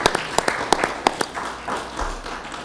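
A handful of audience members clap at a community talk, a sparse scattering of distinct hand claps close by, tapering off into quieter room sound after a couple of seconds.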